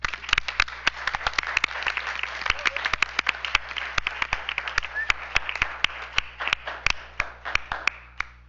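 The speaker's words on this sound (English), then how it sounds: "Let's give them one last round of applause." Scattered, uneven hand claps from a board meeting audience, sparse and loosely timed rather than a dense roar, with a faint room hum underneath across the whole stretch.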